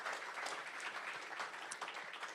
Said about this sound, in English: If you don't mind giving them a big round of applause.